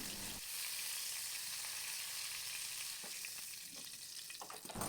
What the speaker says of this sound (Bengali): ওই তেলের মধ্যেই আমি ওয়ান টিস্পুন পাঁচফোড়ন ছেড়ে দিলাম আলুগুলো ছেড়ে দিলাম